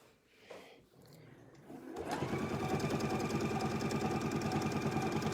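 A sewing machine stitching along a quilt seam line, starting after a quiet moment with a few soft handling sounds, then running steadily with a fast, even mechanical hum and rapid needle rhythm that continues to the end.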